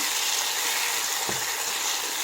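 Tomatoes sauté in a pan without salt or turmeric for a cauliflower gravy, giving a steady, close hiss and sizzle throughout, with a faint scrape partway.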